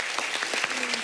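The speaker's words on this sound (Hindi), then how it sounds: "तो इन दोनों के लिए जोरदार तालियां" A studio audience at a TV comedy show applauds, steady dense clapping for about a second.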